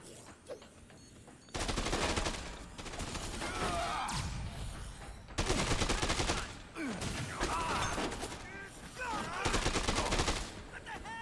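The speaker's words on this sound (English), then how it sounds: "For the love of God, please stop shooting me." Gunfire in the video game Dead Rising 2: Case West rattles in long bursts of rapid automatic shots aimed at the player, loud and dense, with short pauses between volleys and some game sounds in the gaps.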